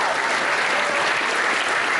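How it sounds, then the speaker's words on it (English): A school senior prize-giving audience claps steadily for an honoured student, a dense, even round of applause lasting about two seconds. "Can we give Mr. Rich a round of applause, please?"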